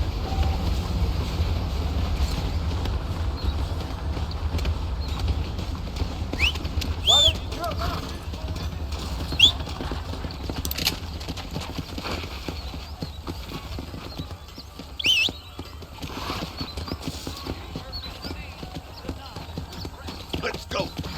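In the video game Red Dead Redemption, a galloping horse gives rapid rhythmic hoof clip-clops that run throughout, with occasional louder thuds, gusty wind noise and a voice talking over it.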